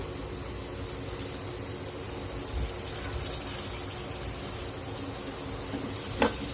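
Toor dal sautéed in a pan with turmeric, giving a steady, close sizzle with soft stirring scrapes and an occasional clink of a spoon.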